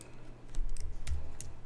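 A single key press on a computer keyboard, then a few soft clicks and taps, all quiet against a faint background hum.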